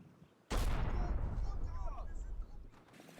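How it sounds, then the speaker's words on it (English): An 81mm mortar shell explodes in the Combat Mission video game, fired from a mortar team 770 meters away, a sudden heavy boom that rolls into a rumbling, crackling tail for about two seconds. "my crack mortar team that is 770 meters away drops an 81mm shell close"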